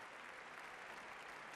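Members of parliament give Angela Merkel a long round of applause, a dense, even clapping from a large assembly that holds steady throughout.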